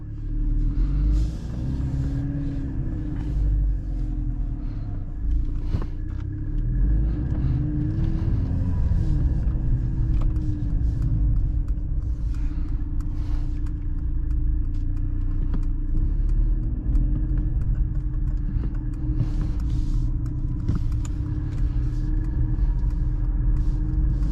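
A 2023 Mercedes-AMG C 43 drives along, its engine and road rumble steady and close throughout, with the low drone rising and falling slightly as it pulls forward and no talking over it.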